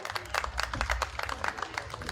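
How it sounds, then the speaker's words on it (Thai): Crowd applause at a Thai temple festival prize-giving, brisk clapping from many hands heard over a low background hum. "ขอเสียงปรบมือเลย"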